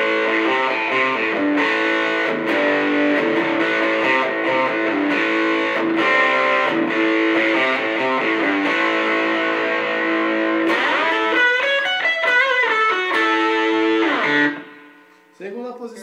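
A Nolan Telecaster electric guitar plays with distortion and a little reverb: a loud, sustained run of strummed and picked chords with rhythmic attacks, shifting to busier bent notes before cutting off and ringing briefly near the end.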